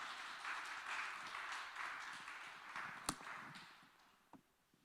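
A church missionary gathering, where the audience claps to welcome a missionary to the stage: a moderate wash of applause that gradually fades away, with a couple of sharp knocks near the end.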